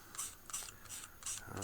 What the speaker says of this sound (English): once you scrape it like that, okay, see the way I'm scraping